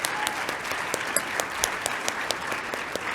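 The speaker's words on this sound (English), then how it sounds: "round of applause" A small group claps in steady applause, moderately loud and close, with no talking over it.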